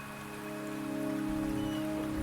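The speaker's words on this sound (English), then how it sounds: "The rain is subsiding, and the sky will soon clear." Steady rain falls on a surface, an even close wash of drops with a faint tonal hum beneath, alone without voices.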